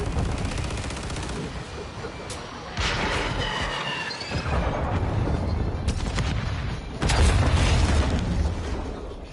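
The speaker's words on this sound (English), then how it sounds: "Friendly cruise missile approaching target." Call of Duty Modern Warfare 2 online match with loud, close gunfire and heavy explosive booms, including a cruise missile strike, in bursts over a constant rumble of battle.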